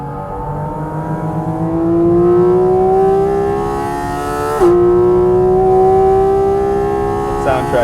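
A Porsche GT4 RS engine screams at high RPM around a race track, holding a loud, steady rising wail with one brief dip at a shift before climbing again, close and sustained.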